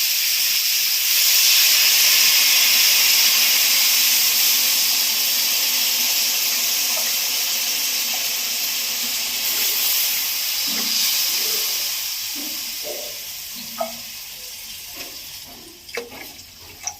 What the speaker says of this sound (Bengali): এই দেখেন ফুটছে ঝোল।